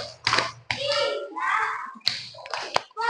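Children clap their hands in a classroom focus-clap game, a few sharp claps landing between loud, chanting young voices that dominate.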